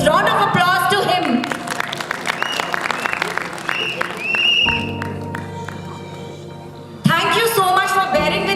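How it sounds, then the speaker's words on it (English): An audience applauds during an evening theatre and storytelling event; scattered claps sound under speaking voices and sustained musical tones, fading midway and then returning louder near the end. "Round of applause to him."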